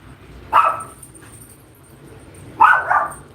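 A dog barks twice indoors at a house, two loud, close single barks about two seconds apart, with quiet room tone between them.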